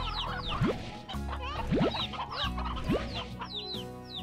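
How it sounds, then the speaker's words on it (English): Several chickens cluck and squawk in short bursts over steady background music in the video game Slime Rancher, with a few rising boing-like tones mixed in. "we've got one rocky hen"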